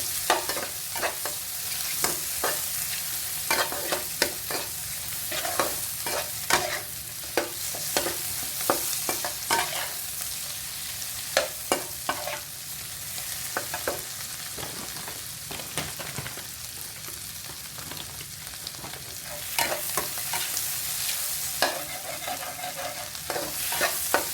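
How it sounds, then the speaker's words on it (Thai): Peeled, butterflied shrimp being stir-fried in a pan for shrimp fried rice, a continuous sizzle broken by frequent sharp scrapes and clanks of the spatula against the pan. "ผัดกุ้งแค่พอสุกนะคะ"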